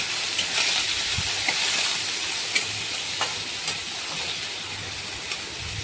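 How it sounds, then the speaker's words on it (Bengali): Shrimp sizzle steadily in a hot wok seasoned with dried red chilli and nigella seeds, a constant bright hiss broken by occasional clicks and pops as the pieces fry. "এরপরে চিংড়ি মাছ দিয়ে চিংড়ি মাছটাকে একটু ভেজে নেব।"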